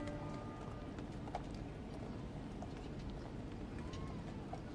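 Horses' hooves clop steadily on pavement during a large state funeral procession, a continuous rhythmic clatter under broad crowd ambience, with a commentator faintly audible.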